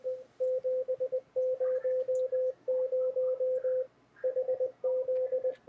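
CW Morse signal received on a Flex 3000 SDR radio with a narrowing filter bandwidth: a clean, steady tone keyed in rapid dots and dashes in bursts, with a faint hiss between them and no talk.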